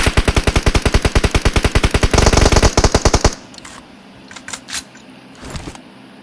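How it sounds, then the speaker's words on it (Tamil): Rapid automatic gunfire in the BGMI mobile battle royale game, a loud, evenly spaced burst lasting about three seconds, then a few scattered quieter shots and clicks with no talking. "ஒரு புல்லட் போடுறாங்க."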